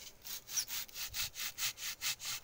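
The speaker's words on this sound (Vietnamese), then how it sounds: "nghe mình cưa nãy giờ nó được có chút xíu à" Hand saw cutting through a hard wood burl, steady back-and-forth strokes in a regular rhythm of about nine rasping pulls, close and moderately loud with no talking.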